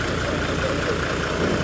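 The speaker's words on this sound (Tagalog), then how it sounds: "yung ingay dapat yung normal na ingay lang ng makina" A surplus Japanese truck engine idles with a steady, loud low rumble and an even mechanical drone, close by and uninterrupted.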